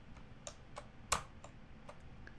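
Shift keys pressed on a computer keyboard, a handful of light, sparse clicks with one sharper, louder tap near the middle, close and alone over a faint low hum.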